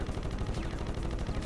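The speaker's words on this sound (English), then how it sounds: "I know ships have like defensive cannons, but what are they firing at?" Ship defensive cannons fire continuously in the Ratchet & Clank video game, a dense, steady barrage of rapid booming shots that fills the whole moment without a break.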